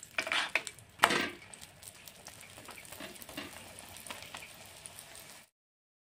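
Egg paratha fries in mustard oil in a pan with a soft, steady sizzle, punctuated early by a few sharp scraping clatters of a spatula flipping it.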